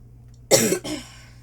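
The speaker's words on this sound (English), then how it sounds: "sorry about me coughing" A single sharp cough from a person with a cold, close and loud, with a short second burst right after, then quiet.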